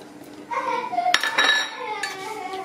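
Salad being tossed with lemon juice and chopped coriander and parsley in a dish, giving close, irregular clinks and scrapes of utensils against the bowl over about two and a half seconds.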